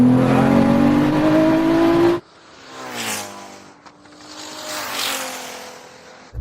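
A Nissan Patrol and a Ferrari SF90 launch off the line in a drag race, a loud engine roar rising in pitch before cutting off, then more distant engine sweeps building and fading twice.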